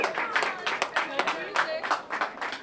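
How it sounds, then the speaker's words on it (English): A crowd at an outdoor community night event claps for a DJ in a short, uneven burst, the claps close and distinct, with voices chattering over them. "give a round of applause to our DJ"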